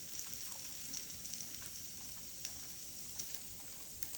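Japanese A5 wagyu sizzling on an indoor Zojirushi grill, a faint, steady hiss of fat with small scattered pops and crackles, heard close with no talking.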